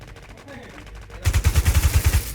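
Rapid burst of automatic gunfire in the shooter video game Infestation, about ten evenly spaced loud shots in the second half after a quieter stretch of low background noise.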